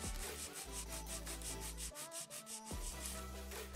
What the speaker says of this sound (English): My second step in filing is straight out from the nail groove on the right